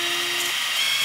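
Electric epilator running at its first, lower intensity setting, a steady high-pitched mechanical whir, close and continuous throughout with no talking.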